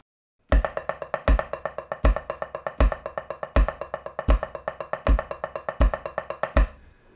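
Military snare drum playing steady semiquavers in groups of six in 2-4 time, each group led by a stronger accented stroke; crisp, close, even rolling strokes repeating for several bars before ringing out.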